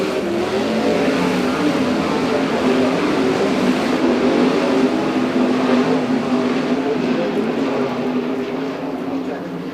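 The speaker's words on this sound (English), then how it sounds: "I'll wait till the cars get by us." Sprint cars roar past on a dirt oval at Port Royal Speedway during heat races, a loud continuous engine drone with revving that stays close and steady, with a voice talking over it.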